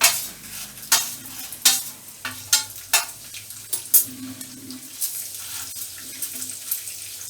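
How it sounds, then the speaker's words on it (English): Urad dal, white lentils, frying in hot coconut oil in a pan, with a low sizzle under a regular series of sharp scraping stirs that thin out toward the end. "I am going to add the urad dal, the white lentils first."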